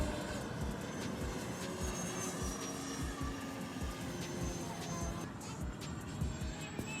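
A 1:16-scale RC electric ducted-fan jet on a sandy field, the fan's steady high whine and rushing air holding fairly level throughout, heard from a short distance.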